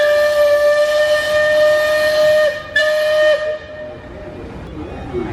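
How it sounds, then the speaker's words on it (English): The Disney riverboat Liberty Belle blows its steam whistle in a loud, sustained, chord-like blast. After a brief break it sounds a second, shorter blast that tapers off into hiss. "Blow your horn, or your whistle."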